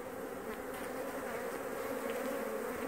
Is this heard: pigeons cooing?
no